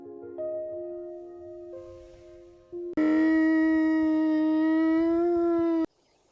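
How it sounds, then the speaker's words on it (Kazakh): Cartoon camel call in a Kazakh children's animation: a long, loud moaning groan that swells and holds for several seconds before stopping abruptly, after a quieter tonal lead-in. "Ал енді түйенің дауысы қандай екенін білейікші?"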